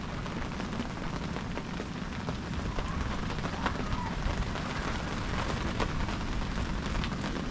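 Steady rain falls outdoors on an evening at a creek dam near a grill, a dense continuous hiss of drops with occasional louder patters, moderately loud and without talk.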